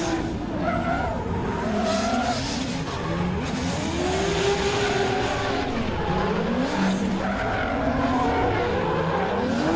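Drift cars in a Pure Drift competition, a Nissan among them, slide sideways through a tandem battle with loud, continuous tire squeal and engines wailing up and down, close and dense throughout with no pause.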